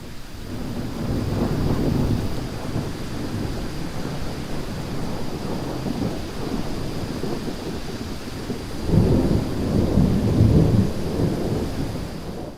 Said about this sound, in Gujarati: છેલ્લા બે દિવસથી જૂનાગઢમાં ગાજવીજ સાથે મુશળધાર વરસાદ વરસી રહ્યો છે